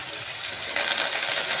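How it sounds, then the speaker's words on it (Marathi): Plenty of chopped onions sauté in a hot kadhai with curry leaves for kanda poha, giving a steady close sizzle and crackle that swells slightly partway through. "छान परतून घेऊयात कांदा."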